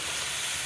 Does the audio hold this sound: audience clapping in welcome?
no